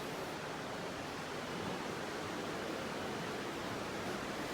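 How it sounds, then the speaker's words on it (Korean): A river flows steadily outside an open window beside a hot spring bath in Wulai, Taiwan, giving a constant, even rush of water that is faint and unbroken throughout. "창문을 열자 강물 소리가 들려요."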